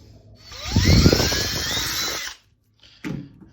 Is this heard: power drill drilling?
yes